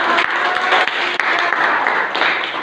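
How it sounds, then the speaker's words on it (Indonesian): An audience claps after a class presentation, giving dense, continuous applause from many hands that stays close and loud throughout. "kita berikan aplaus untuk"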